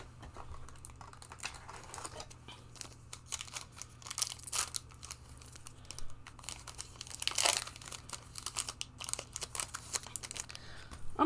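Crinkling wrapper of a Lord of the Rings Tales of Middle-earth card pack being torn open, with close, irregular crackles and rustles through the clip, a louder burst of crinkling about two thirds of the way in.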